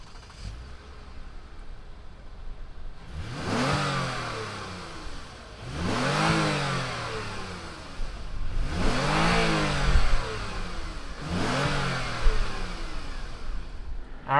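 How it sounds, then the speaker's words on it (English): The naturally aspirated V6 of a 2019 Toyota Camry XSE fires up and idles, then is revved four times in a row, each blip climbing sharply and falling back, loud and close. "fire it up, and see what a naturally aspirated V6 sounds like"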